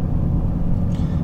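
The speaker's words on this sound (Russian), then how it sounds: "Вот вы слушаете шум какой в машине." Steady low road rumble inside a moving Lexus LS 430 sedan, a continuous dense drone with no voices, heard from the cabin.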